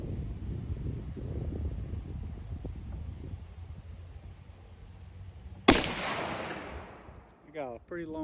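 .44 Magnum Taurus Raging Hunter revolver fired once at a pumpkin outdoors: a single sharp, loud report after several quiet seconds, ringing out and decaying, with a voice talking shortly after.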